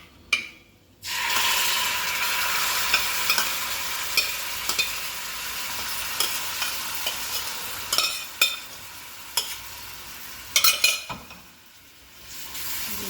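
Hog plum cooked with jaggery being stirred in a pan, a steady sizzling bubble with scattered scraping clicks of the spoon against the metal, growing busier toward the end before a brief pause.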